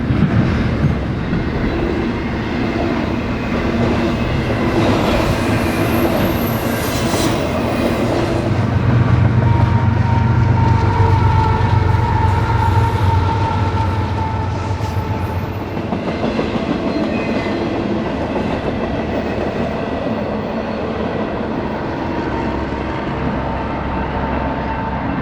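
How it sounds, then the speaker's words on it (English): A Union Pacific intermodal freight train rolls past up close, its steady loud rumble and clickety-clack of wheels on rail holding for the whole stretch with faint squeals and no voices. "Also waiting for this intermodal to clear is one of Union Pacific's industry jobs."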